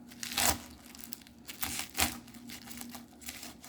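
Collard greens are cut up by hand in a series of soft, close crinkling and tearing bursts with short pauses between, fairly quiet.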